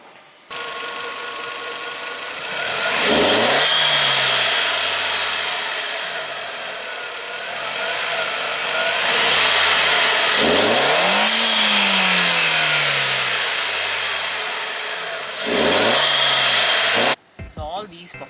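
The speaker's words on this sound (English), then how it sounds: "The exhaust system fitted to the car is Milltek exhaust system" Skoda Octavia vRS with a Milltek exhaust, Shark Performance remap and Pipercross intake revving hard three times, each rise to a loud, rasping peak then falling away, the engine close and running alone throughout.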